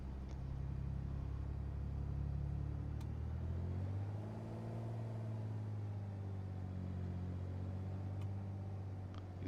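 Aircraft propeller engine in Microsoft Flight Simulator 2020 running at about 1400 RPM, a steady low droning rumble that shifts pitch slightly as it settles, continuous and fairly quiet, with no talking.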